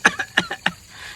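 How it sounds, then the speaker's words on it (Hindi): A person coughs four or five times in a quick, close, fairly loud burst, at home on a rooftop where children play. "कौन खांस रहा?"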